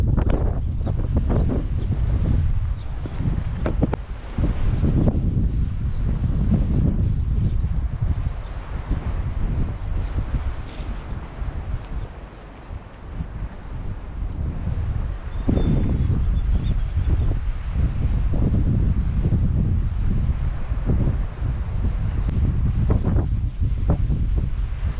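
Strong wind buffets the microphone outdoors at a fishing spot by the water, a loud continuous rumbling roar with gusty swells and brief lulls, and no one talking.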